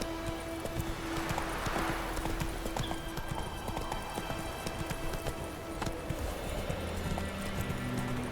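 Horse hooves gallop in a steady, rapid clip-clop in The Witcher 3, loud and close, with a faint whinny near the start and game ambience underneath.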